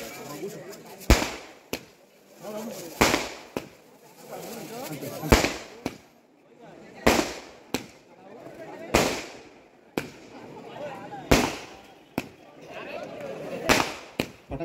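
Firecrackers and fireworks go off at a cricket tournament ground as a string of sharp bangs about every second or two. Each bang is followed by a short crackling tail, and the noise of a crowd and voices runs between the blasts.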